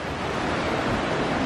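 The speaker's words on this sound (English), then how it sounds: "Can hear some water. Is that a waterfall," A waterfall in a park rushes as a steady, even roar of falling water, heard from a short distance with no voices.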